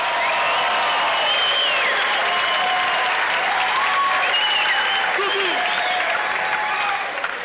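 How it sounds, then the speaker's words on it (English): A crowd at a female Muay Thai fight gives a steady round of applause and cheering for both fighters, a continuous dense wash with some whistling tones riding over it, sustained throughout. "how about a nice round of applause for both fighters,"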